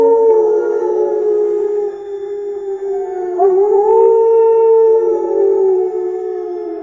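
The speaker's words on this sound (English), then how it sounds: "A wolf howling at the moon from Sora." An AI-generated wolf howl at the moon: one long, sustained, tonal cry with a slight upward pitch bend partway through, loud and alone.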